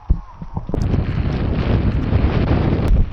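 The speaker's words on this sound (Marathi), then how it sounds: "खूपच भारी असं कॉम्बिनेशन आहे पावसाचं आणि वाऱ्याचं" Strong monsoon wind with light rain roars and buffets the microphone in a constant loud rush on the Rajgad Fort trek, with a few brief knocks near the start and no voices.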